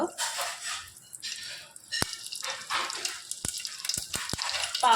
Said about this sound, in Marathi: तेल चांगलं गरम झालं की त्यामध्ये टाकणार आहोत एक चमचा मोहरी मोहरी चांगली तडतडले